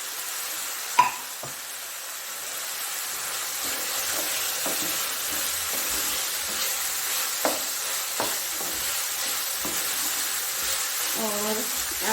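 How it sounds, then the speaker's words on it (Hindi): Chopped green chillies and a kachori filling fry in a pan, giving a steady, close sizzle with occasional stirring clinks and scrapes throughout, no talking. "और थोड़ी देर इसको मैं फ्राई करूँगी ताकि इसका कलर चेंज हो जाए"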